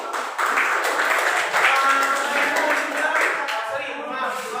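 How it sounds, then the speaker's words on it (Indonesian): A classroom of students applauds after a group presentation, a continuous wash of hand clapping lasting several seconds, close and steady, with voices mixed in. "kita beri tepuk tangan lagi"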